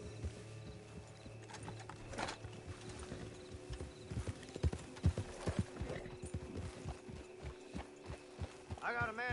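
Horse hooves clip-clop in a steady galloping rhythm in Red Dead Online, with occasional whinnies and a mechanical clatter, moderately loud under faint background game noise.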